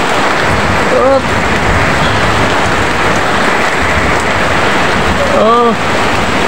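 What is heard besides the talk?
heavy rain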